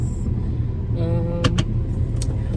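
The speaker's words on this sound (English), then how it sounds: "I want to let my car warm up" A car engine idles steadily as it warms up, a low constant rumble filling the clip with a few brief clicks and rattles partway through.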